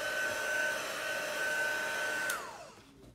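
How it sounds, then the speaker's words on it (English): A hair dryer blows on wet chalk paste on a craft project, a steady whooshing whine for about two seconds before it switches off and spins down with a falling tone. "I always blow dry it so that I don't stick my hand in it and smear it."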